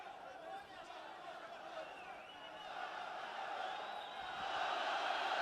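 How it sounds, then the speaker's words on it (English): A packed MMA arena crowd at an ACA event roars and cheers for fighter Yermek Tlauov, a sustained dense wall of noise that swells louder toward the end, with commentators' voices woven underneath. "look at the crowd raising the roof for Yermek"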